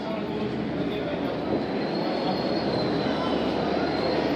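A Shalimar Express train standing at a station platform, giving a steady, dense rumble of engine and carriage noise with continuous platform bustle and no distinct breaks.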